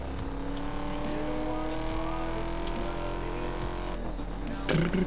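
Racing car engines from Need for Speed: Most Wanted (2012) drone continuously at steady pitch during a race, with a brief burst near the end.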